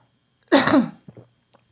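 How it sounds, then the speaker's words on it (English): A single rough cough, followed by a couple of small throat sounds, then quiet. "Stop to cough, sorry."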